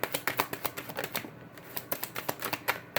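Tarot cards being shuffled by hand, a rapid run of crisp riffling clicks and soft slaps in an uneven rhythm, close and fairly quiet, with no voices.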